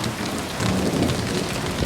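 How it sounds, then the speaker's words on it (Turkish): A heavy downpour hisses loudly and evenly on surfaces while low thunder rumbles beneath it, close and continuous throughout the short stretch, with no voices. "Bayağı sağanak yağmur başladı. Şimşek falan çağırıyor."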